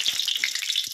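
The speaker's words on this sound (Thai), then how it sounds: "ทอดไปเรื่อยๆนะครับ" Crispy pork belly deep-frying in hot oil for a Thai kale stir-fry dish gives a bright, steady crackling sizzle close up, with a few low bubbling pops underneath and no talking.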